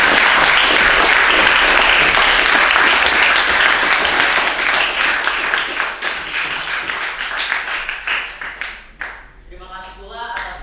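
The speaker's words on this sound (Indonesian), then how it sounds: "Bisa kita berikan tepuk tangan." An audience applauds after a student research presentation on bioplastic, a loud sustained round of clapping that thins out toward the end into scattered individual claps.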